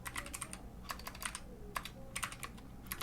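Code being typed on a computer keyboard: quick clustered bursts of key clicks separated by short pauses, close and fairly quiet, with no talking.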